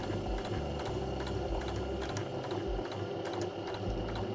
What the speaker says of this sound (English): Lift up and turn so we can go all the way along this line.